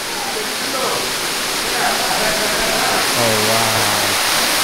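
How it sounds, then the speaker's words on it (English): A waterfall roars as a steady, broad wash of rushing water, loud and close, with people talking over it and one voice exclaiming. "The next stop is the waterfall."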